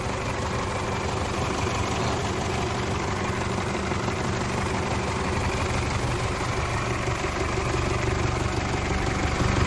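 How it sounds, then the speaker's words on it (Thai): A 2007 Isuzu D-Max 2.5 diesel pickup engine idles steadily and evenly, a continuous low rumble with no revving, close by and alone. "รถสตาร์เครื่องอยู่นะครับ เครื่องเดินนิ่งเดินเรียบนะครับ"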